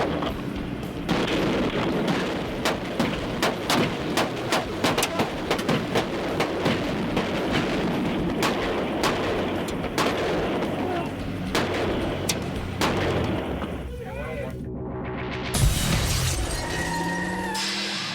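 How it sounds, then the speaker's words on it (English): Rapid bursts of police gunfire crack over a dense, chaotic background after a high-speed car chase, shots piling up for many seconds before a sudden shift to a different, clattering noise near the end. "multiple gunshots, the driver is felled by just one bullet"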